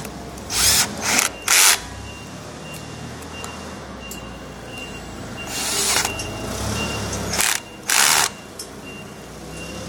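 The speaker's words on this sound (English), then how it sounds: "During this step, you'll want to tighten these screws down completely." Power drill tightening screws into a luggage unit during assembly, several short loud whirring bursts close by with quiet pauses between them.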